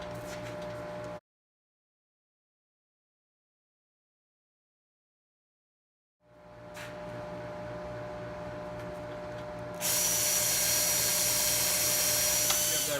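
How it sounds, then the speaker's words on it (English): A drill bores out a rivet on a car sunroof assembly of a Buick Enclave, GMC Acadia, Chevrolet Traverse or Saturn Outlook, starting after a stretch of silence with a steady whir that rises into a loud, high whine for the last few seconds. "there's a little rivet in here, you're going to want to drill that out"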